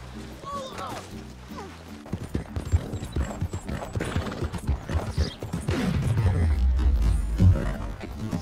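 Horse hooves clip-clop steadily in a video game, a rapid rhythmic clatter that grows louder and closer toward the end, with a brief whinny and voices talking over it.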